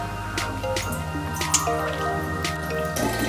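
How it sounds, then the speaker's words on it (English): Homemade bathtub gin steeped with hibiscus and botanicals, poured through a makeshift strainer, gives off soft, irregular drips and small splashes of liquid, close and fairly quiet, over a steady background hum. "I first need to strain it before I can drink it"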